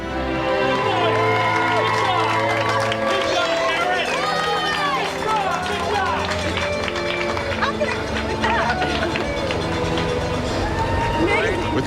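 Hometown supporters cheering from a mezzanine for an athlete at the 1999 Ironman Hawaii triathlon, a steady roar of crowd noise and shouting that runs for the whole stretch, mixed with music and announcer talk.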